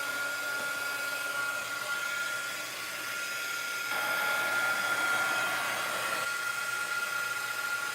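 A hair dryer blows steadily on wet paint, a close, continuous whooshing whine that briefly dips, then grows louder as the airflow shifts, with no voices.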